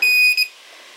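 A single shrill electronic beep from a radio transmitter arming a Tarot 130 quadcopter, loud and close, with a brief double pulse before it cuts off.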